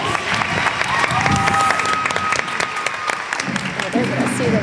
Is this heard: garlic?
no